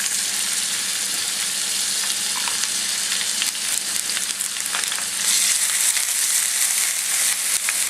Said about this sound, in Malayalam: ഇനി ഇതിലേക്ക് ചതച്ച് വെച്ചേക്കുന്ന ഉള്ളിയും കറിവേപ്പിലയും ചേർക്കാം.